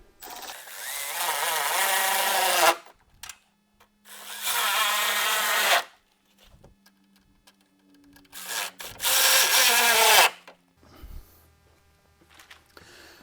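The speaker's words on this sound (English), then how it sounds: "go ahead and tighten your bolts up" A hand tool works on the headlight mounting bolts of a Mercury Grand Marquis in three loud, long bursts of rapid ratcheting and scraping, with quiet gaps and faint small clicks between them.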